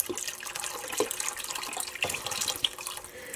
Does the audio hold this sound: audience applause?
no